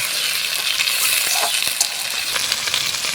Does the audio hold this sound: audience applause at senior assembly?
no